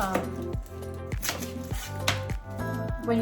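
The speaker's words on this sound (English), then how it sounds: "My favorite way to chop an onion is to go right through, tip to tip" A knife chops through an onion on a cutting board in quick, uneven strokes, with sharp taps and some clattering, close by.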